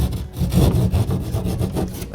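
A hand saw cuts across an existing drywall wall at the edge of a stud bay, making close, rhythmic rasping strokes in quick succession with no talk.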